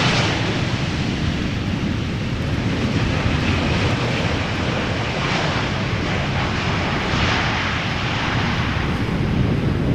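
Airplane arriving at Amsterdam Schiphol Airport in gusty crosswind: a loud, sustained engine roar with broad rushing noise and wind buffeting on the microphone, steady and unbroken for the whole stretch.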